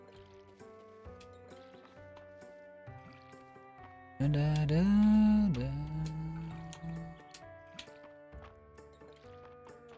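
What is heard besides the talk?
watering crops with watering can in video game Fields of Mistria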